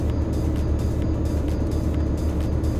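A truck cruising at 90 km/h in Euro Truck Simulator 2, giving a steady low engine drone and road rumble that holds constant and fairly loud throughout.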